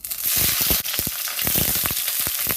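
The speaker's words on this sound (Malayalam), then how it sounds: "ഇപ്പോൾ ഒരു പാൻ വെച്ച് അതിലേക്ക് എണ്ണ ഒഴിച്ചിട്ടുണ്ട് ഇനി നമുക്ക് ക്യാപ്സിക്കം സവാള ഒന്ന് വഴറ്റിയെടുക്കാം" Capsicum and onion sauté in hot oil in a pan for kadai paneer. The loud close sizzle is broken by frequent quick scrapes and clatters of stirring, with a brief dip near the start.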